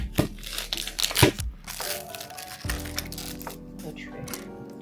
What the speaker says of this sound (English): We're gonna open the crab meat.